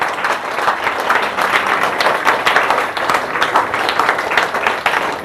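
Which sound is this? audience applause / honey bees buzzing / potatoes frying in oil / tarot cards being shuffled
audience applause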